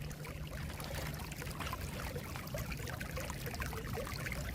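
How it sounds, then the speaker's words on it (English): Water pours steadily into a drain system through 4-inch grates during a thaw, a continuous dense rushing and trickling flow with no pauses. "That flash flood, it doesn't give water a chance for the ground to really take it in."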